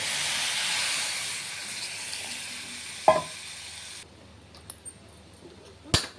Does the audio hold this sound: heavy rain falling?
no